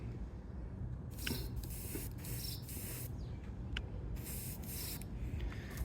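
Short hissing bursts of spray paint applying a light second coat to a 1:72 Heller Super Scooper scale model, several separate passes over a quiet background hum.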